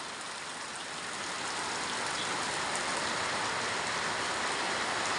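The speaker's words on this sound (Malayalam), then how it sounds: "ഇപ്പോൾ മഴ പെയ്തിരിക്കുകയാണേ, നല്ല പെരുമഴ." Heavy rain pours down at night near a house, making an even, hissing wash of sound that swells slightly at the start and then holds steady and moderately loud, with no voices.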